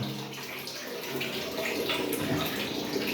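Water splashes and pours continuously during a cold bath, a close, steady gushing wash with scattered spatters and no talk.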